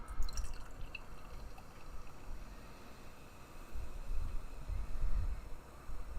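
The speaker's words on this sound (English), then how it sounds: "let's see how this guy pours" Cranberry orange smoothie tart beer pours into a tulip glass with a soft, fizzy splashing and trickling at low volume, a few light clinks at the start and gurgling swells toward the end.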